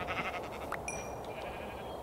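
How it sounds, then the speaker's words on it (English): A Minecraft sheep bleats once, a short clear synthetic bleat over steady background game noise and ambience, with no talk. "Sheep."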